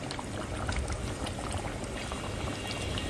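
Water and meat boiling hard in a pot over a high flame, a constant dense bubbling and fizzing that stays steady throughout, close and fairly quiet.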